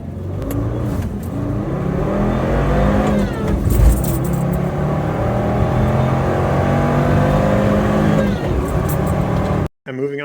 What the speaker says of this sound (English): Let's do a quick 0 to 60.